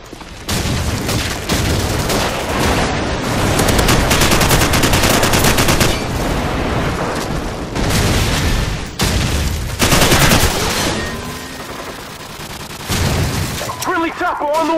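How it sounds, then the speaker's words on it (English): Airstrike explosions and heavy gunfire in a Call of Duty 4 team deathmatch on the Bog map: sustained loud automatic fire, booming blasts and shattering debris, broken by brief lulls, with game voice announcements heard in between. "Friendly airstrike on the way."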